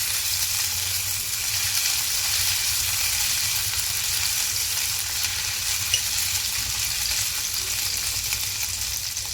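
Chili and ginger paste fries in hot oil for samosa filling, giving a steady, close, even sizzle that runs unbroken with no talking over it.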